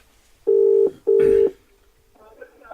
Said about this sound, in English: I'm going to get him on the phone.